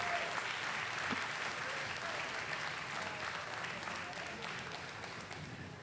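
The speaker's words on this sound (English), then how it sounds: "How about a big round of applause for Annette Sheppard kicking off Glass Fest with a beautiful piece." An audience claps steadily through a glassblowing demonstration at a glass festival, a dense and even round of applause that fades slightly toward the end.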